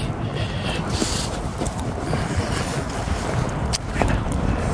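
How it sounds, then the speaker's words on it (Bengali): Strong winter wind in Russia, where snow is starting, buffets loudly and continuously, roaring across the microphone in gusts with occasional rustling bursts. "প্রচুর বাতাস হচ্ছে।"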